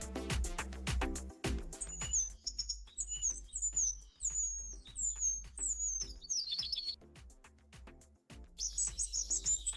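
AI-generated nature sound effect: birds chirp and trill in quick, high bursts over a series of sharp clicks and taps, with quiet gaps between calls.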